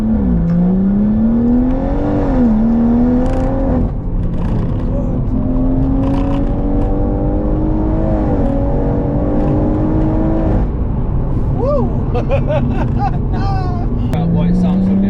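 A stage 3 big-turbo BMW M140i pulls hard through rising and falling engine tones with gear changes, loud and close from inside the car, with people talking over it.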